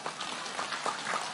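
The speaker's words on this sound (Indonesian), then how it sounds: "kita hadir Wakil Bupati Gus Bara, tepuk tangan untuk beliau." An audience applauds at an Islamic religious gathering (pengajian) marking the centenary of Nahdlatul Ulama. Steady, dense clapping from many hands continues throughout without pause.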